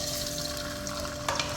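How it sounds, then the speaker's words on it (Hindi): Boiled mutton frying in oil in a pan, a steady low sizzle with a faint hiss and a couple of brief clinks near the end. "मटन को ऑयल में अच्छी तरह से हम फ्राई कर लेंगे।"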